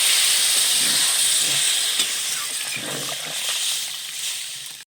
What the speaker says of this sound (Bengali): এবার আমি এখানে জল দিয়ে দিচ্ছি